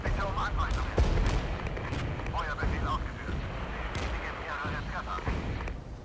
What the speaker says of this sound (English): Artillery is now coming in.